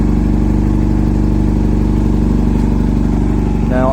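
A motorcycle engine idles loud and close with a steady, throbbing low rumble that continues unbroken throughout.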